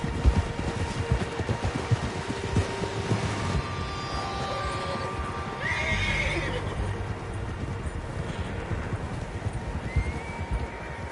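A horse whinnies over a constant rumbling backdrop, with hoofbeats and other horses stirring in the mix, in the video game Red Dead Redemption 2.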